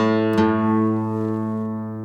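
Plucked guitar strings compared while tuning, a sustained harmonic note with a bright attack near the start that rings on and slowly fades, alone without talk.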